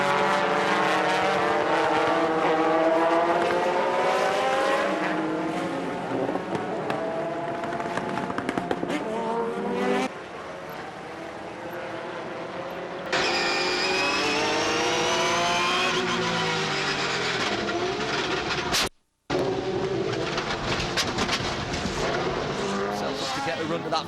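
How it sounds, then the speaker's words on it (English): Race car engines of roughly 300 horsepower roar together as a motorsport field launches from a standing start, loud and sustained with rising revs, while a commentator talks over the noise throughout. "Up goes the 300 horsepower engines."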